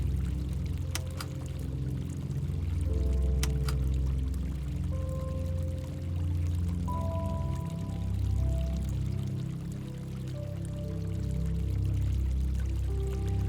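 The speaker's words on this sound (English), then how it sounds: "the water still running in the abandoned Sunsplash pool" Water pouring and trickling steadily in an abandoned, empty Sunsplash leisure pool at a Butlin's Minehead holiday camp, a continuous splashing flow with echoing low rumble and occasional brief clinks, no voices.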